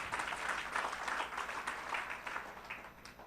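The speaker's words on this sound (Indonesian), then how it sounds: "Mari berikan tepuk tangan." Applause rises from a congregation at a Sunday church service, a steady wash of many hands clapping at moderate distance, sustained and fairly even throughout.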